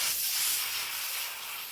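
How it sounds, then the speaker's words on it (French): Meat, liver, frying over medium heat in a pan of hot oil or olive oil, giving a steady bright hiss of sizzle that holds at an even level throughout, with no voices. "Faites frire la viande à feu moyen pendant quelques minutes."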